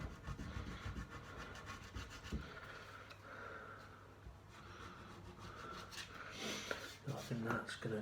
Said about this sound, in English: because of having lots to sand down